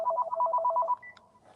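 A landline telephone rings in a rapid warbling burst of electronic chirps for about a second, then a short high beep and quiet follow.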